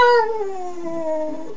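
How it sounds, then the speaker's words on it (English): A pug howls close up in one sustained, tonal wail that slowly falls in pitch and fades toward the end. "pugs usually don't howl, but this guy certainly does"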